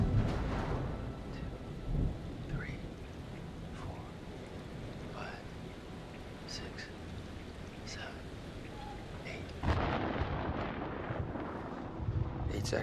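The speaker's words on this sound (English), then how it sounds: "The storm's 8 miles away." Thunder from a storm in the video game Man of Medan, with low rolling rumbles and a heavier crack near the end over a steady hiss like rain. Faint voices come through now and then.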